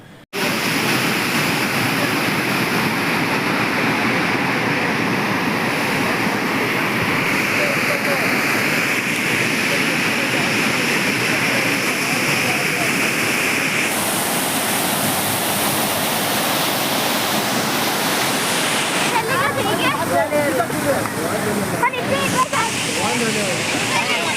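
Steady, loud roar of a waterfall on the road to Baba Budangiri near Mullayanagiri, a continuous broadband rush of falling water running without a break, with a brief shift in texture partway through.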